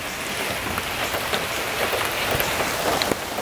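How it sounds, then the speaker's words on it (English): Heavy pouring rain falls steadily on surfaces outdoors, a dense, even hiss with scattered louder drops, close and continuous with no talk. "it's pouring rain"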